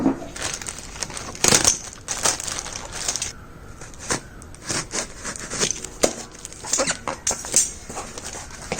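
Packaging crinkles and rustles in short bursts at close range while a Realme 7 Pro phone is unboxed, with a dog whimpering and yipping nearby between the crinkles.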